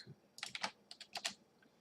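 Keystrokes on a computer keyboard come as quick clusters of close, crisp clicks in two short bursts with brief pauses between them, heard alone and without any talk.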